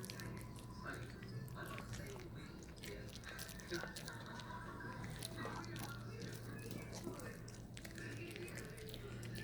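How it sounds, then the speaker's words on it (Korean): A Shih Tzu chews food close by with soft, irregular wet bites and munching, while people speak quietly nearby in a home setting. "로또 다 먹을 때까지 니네들 기다려"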